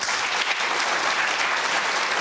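A television studio audience at Question Time applauding, a dense, loud, steady burst of clapping from many hands throughout.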